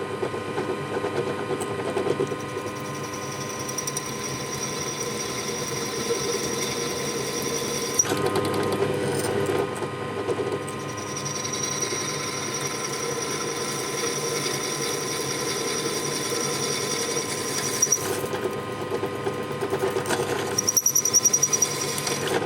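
A spot weld cutter grinds steadily into sheet metal on a greenhouse, a continuous whirring drill tone held close and even, with a brief pause partway through before cutting resumes.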